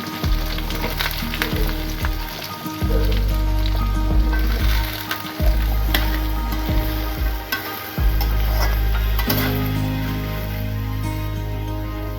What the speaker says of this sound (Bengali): আলু আর ফুলকপিটা দিয়ে প্রথমে ভেজে নেব